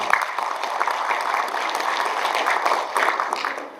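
Audience applause at a dairy cooperative general meeting in South Jeolla, a steady, even wash of many hands clapping in a hall, moderately loud and unbroken from start to finish.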